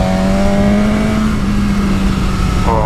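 An Aprilia RSV4 1100 Factory motorcycle engine revs hard on the throttle with a loud, close, harmonic howl. The pitch holds high, then dips, then flares sharply upward again at the end.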